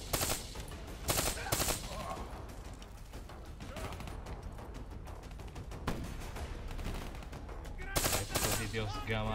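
Rapid three-round bursts of gunfire in Call of Duty: Black Ops 3 crackle in quick succession, loud and close, with short pauses between volleys and faint voices underneath.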